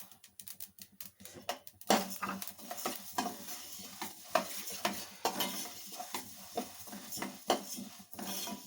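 Coriander seeds stirred and dry-roasted in a pan for puliyogare: quiet, close scraping and rattling of a spoon through seeds in irregular strokes with light clicks against the metal, no talk.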